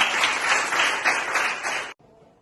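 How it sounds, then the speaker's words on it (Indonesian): A classroom of students claps together for about two seconds in a loud, rhythmic burst with a slight pulsing beat, then stops abruptly, leaving quiet room tone. "Oke, tepuk tangan kita."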